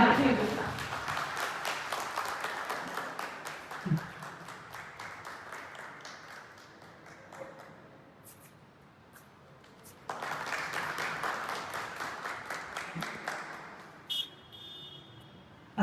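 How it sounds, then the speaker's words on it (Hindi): Applause at a village gathering comes in two waves of brisk, moderately loud clapping, each fading into quieter scattered claps, with a voice talking during the lull between them. "जोरदार ताली के साथ"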